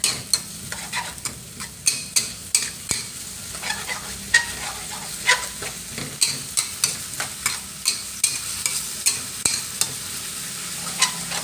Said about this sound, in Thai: แล้วเราก็จะ ผัดเครื่องปรุงให้เข้ากัน